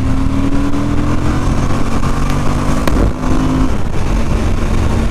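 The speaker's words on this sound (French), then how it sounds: "Franchement ce moteur là il marche tellement bien" A Suzuki V-Strom 1050 DE motorcycle, 2023 model, engine droning steadily while riding, a loud constant hum with wind rush throughout and one brief dip in level near the middle.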